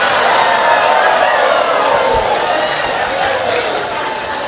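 A large crowd at an outdoor religious sermon gathering in Balikpapan claps in a dense, sustained wash of applause that fades slightly toward the end, with a voice faintly beneath it.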